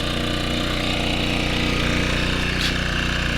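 A Gentrax 1.2 kW pure sine wave portable generator runs at a steady, even engine hum with a fast low pulsing, heard close and continuous without any talking.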